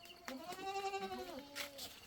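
A goat bleats once in a long, wavering cry at a goat pen, close and fairly loud, with quieter rustling noise at the end and no talking.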